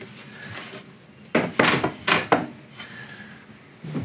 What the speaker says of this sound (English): then you have some nice drawers underneath